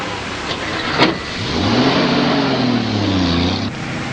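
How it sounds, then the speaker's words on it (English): A car engine revs and accelerates loudly and close by, pitch climbing and then holding steady as the vehicle drives off, in a 1940 film serial pursuit scene. "There's a car behind us. We're being followed."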